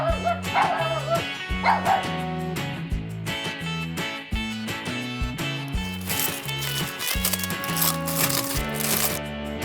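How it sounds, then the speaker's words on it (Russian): Dog barks and yips are mixed into loud, busy music, the barking repeating in short bursts throughout. "собака"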